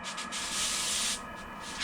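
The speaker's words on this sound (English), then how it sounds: "This sanding is done just to get the excess Good Filler wood filler off and clean it up" Close sanding of wood filler on a wooden rolling pin, a harsh hissing rasp in a few short strokes followed by one long continuous pass.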